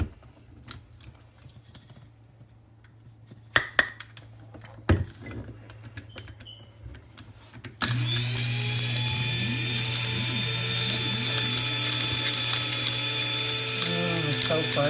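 Coffee grinder grinding home-grown basil into seasoning, several seconds of quiet clicking and handling before a sudden loud steady motor whir that runs without a break to the end.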